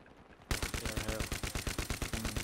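Rapid automatic gunfire in the tactical shooter game Squad, with an M60 among the weapons, bursts in suddenly and hammers on in an even, fast rhythm of sharp, loud reports for about two seconds.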